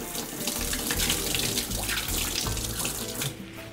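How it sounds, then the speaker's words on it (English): Fresh rosemary sprigs held under a running cold kitchen tap: a steady, close splashing stream of water with small shifts as the sprigs move through it, no talking. "Rinse it under cold water."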